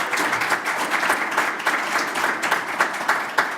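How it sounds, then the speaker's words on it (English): Audience at a business association candidates night applauding the election candidates, steady dense clapping from a roomful of people with scattered sharper claps, continuous for a few seconds. "let's now give a good round of applause for our candidates"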